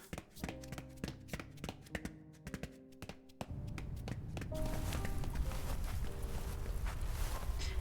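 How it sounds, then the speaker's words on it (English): Footsteps echo through a dark, empty tunnel passageway in the video game Love and Deepspace. Sharp, sparse steps ring out over soft tones, then give way to a denser rumbling wash of ambience. "only the sound of our footsteps fills the dark"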